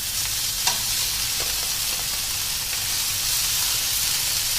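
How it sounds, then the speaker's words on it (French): Beef for a stroganoff sears quickly in a hot pan, producing a loud, continuous close-up sizzle with a few brief sharp crackles and no speech over it. "on va saisir la viande très rapidement"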